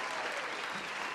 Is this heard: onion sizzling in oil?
no